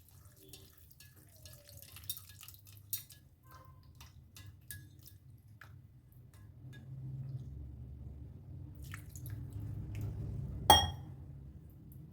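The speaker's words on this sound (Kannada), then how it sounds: "ಈಗ ಇದಕ್ಕೆ ನೀರನ್ನ ಹಾಕ್ತಾಯಿದ್ದೀನಿ." Water poured into a pot of vegetable curry: a few faint drips and clinks at first, then a soft, steady stream that swells and ends with a brief splash, quiet and close, with no voices.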